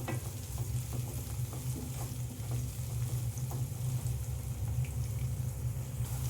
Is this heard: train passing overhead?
no